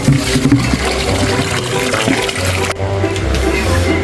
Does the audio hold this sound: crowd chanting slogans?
no